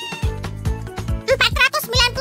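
Several high, short kitten meows overlap with someone speaking, fairly close and loud.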